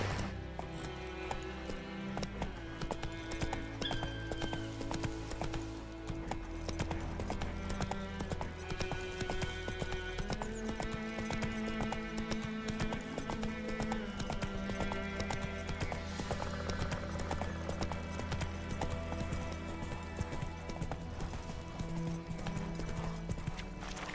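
A horse in the video game The Witcher 3 gallops with continuous rhythmic clip-clop hoofbeats that stay close and steady beneath dense game music throughout.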